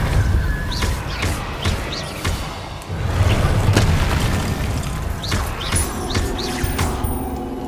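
A Depulso spell lands in the video game Hogwarts Legacy with a loud, heavy boom and thudding impact, then rumbles on under lighter chirping ambience.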